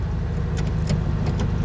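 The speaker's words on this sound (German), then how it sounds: "Jetzt nehme ich einen Geländegang raus." A 1943 Volkswagen Typ 87 four-wheel-drive Beetle engine drones steadily and loudly at close range as the off-road gear is shifted out on a normal road.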